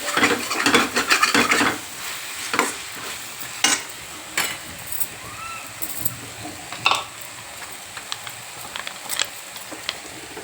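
Green chili paste, ground with salt, frying in a pan for a Telangana mutton bone curry with tomato and tamarind, stirred with a utensil. Clattery scrapes come in a dense burst at first, then sparse knocks over a faint sizzle, with no talking.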